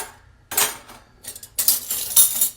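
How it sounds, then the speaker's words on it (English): Stainless steel forks and spoons jangle and clink as a handful is sorted and set down on a work surface, several bright metallic bursts in quick succession, close and fairly loud. "I dug out a bunch of different cutlery today"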